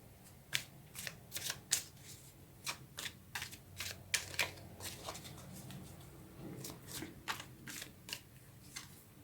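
Tarot cards being shuffled by hand: a quick, irregular run of crisp riffling clicks and slaps, close and fairly quiet, with no talking.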